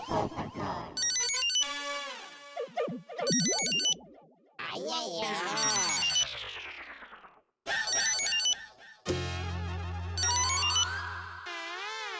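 A mobile phone ringtone plays a bright, busy electronic melody with sweeping tones and beeps, loud and continuous with brief gaps, no voices.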